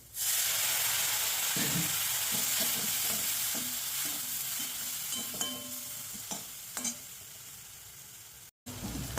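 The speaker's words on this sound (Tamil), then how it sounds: "ஒரு 2 நிமிஷம் வதங்கணும் வெங்காயம்" Onions sizzle steadily in a hot pan with coconut oil, with occasional scrapes and stirring clatter over a constant frying hiss.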